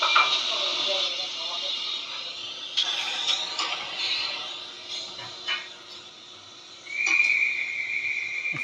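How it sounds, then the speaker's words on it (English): Guard whistle sound effect from a Tri-ang Hornby model train, a steady high whistle tone near the end, heard alone over faint background hiss and noise after scattered earlier sounds. "That's the guard whistle."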